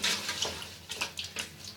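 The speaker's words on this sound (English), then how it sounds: "I'm going to add another 1 cup of water" Water is poured into a pot of palak chicken masala curry on the stove, giving a brief, faint splashing trickle close by with no voices.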